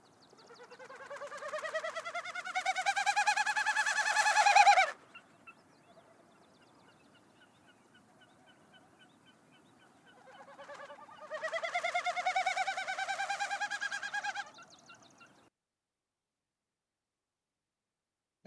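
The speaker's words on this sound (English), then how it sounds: "That sound is made by the male snipe when he's doing his courtship flights." A male snipe's winnowing feathers in courtship flight: two long bursts of a pulsing, tremulous hooting hum, each swelling and rising in pitch for several seconds, separated by a quiet gap. No voices.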